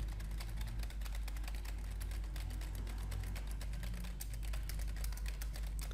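Rapid, continuous clicking of a computer keyboard as text is entered in InPage, a steady stream of light key taps over a low background hum, fairly faint with no speech.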